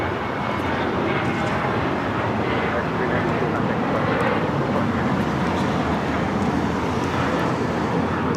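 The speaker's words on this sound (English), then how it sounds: "This is American Airlines 392 taking off to Austin on the 737-800" An American Airlines Boeing 737-800 takes off from LAX bound for Austin, a steady dense jet roar at moderate distance holding constant throughout, with voices talking faintly over it.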